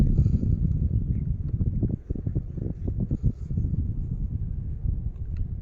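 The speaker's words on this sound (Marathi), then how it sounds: "आपल्या ट्रॅक्टरचा आवाज ऐकू नका" A tractor engine runs in a pomegranate orchard during fertilizer spreading, a close, steady low rumble with uneven chugging pulses and some wind buffeting.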